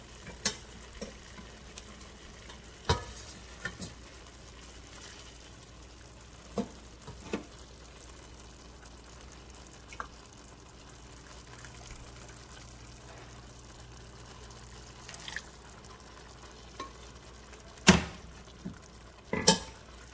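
Mushroom risotto cooking with broth in a pan, heard as a quiet steady simmer with scattered scraping clicks of a spoon stirring against the pan, plus a few louder knocks near the end.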